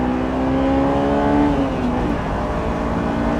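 A Honda S2000 AP1 accelerates hard through a corner, its engine note climbing steadily and loud before easing off, heard close from inside the car with no talking.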